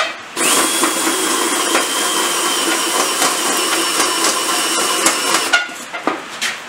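A milling machine cuts a Triumph 500 motorcycle part held in a vise, giving a loud, steady high whine and grinding that runs continuously and then stops with a few knocks.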